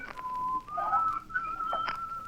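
A whistled rendition of a song, given as a signal in an old radio drama, sounds as a soft, thin melody over a quiet background.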